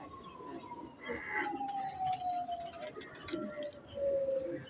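A pigeon of the Sialkoti rooftop breed coos softly nearby while a wailing siren sweeps in the background.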